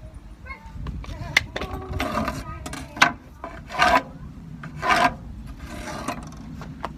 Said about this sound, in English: I'm just going to take half of the distance and scribe a line 1/2 inch down.